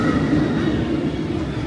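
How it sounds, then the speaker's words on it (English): A roller coaster train at Alton Towers rumbles steadily past nearby, a heavy continuous roar of wheels on track with a low drone and no voices. "I think Charlotte was on that train actually"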